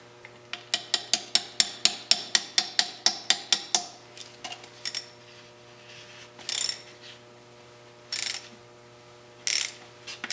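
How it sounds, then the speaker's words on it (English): Socket-and-washer puller drawing a pin out of a Monarch lathe during a rebuild: a rapid run of sharp ratcheting clicks for about four seconds, then scattered creaks and a few louder scraping bursts, all close with no talking. "I've got a socket and washers, and that should act as a puller and pull that pin right out"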